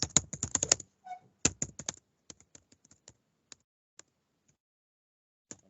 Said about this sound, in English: we type in our reason for that failure